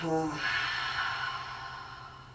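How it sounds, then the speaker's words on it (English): During a yoga flow, a deep, audible breath is drawn in and then pushed out in a long, airy exhale, close and fairly loud, with a brief voiced onset at the start. "Take a big inhale, then a big exhale."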